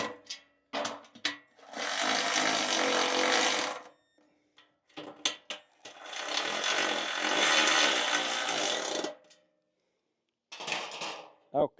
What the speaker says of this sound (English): then I'm going to tighten it with the tools.